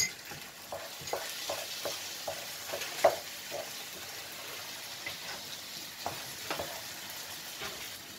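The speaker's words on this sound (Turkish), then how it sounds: "Karıştırıyorum yine güzelce." Stuffed grape leaf filling being stirred in a bowl after salt and chili flakes are added, giving soft, irregular scraping and mixing strokes close by, with occasional sharper clinks and no talking.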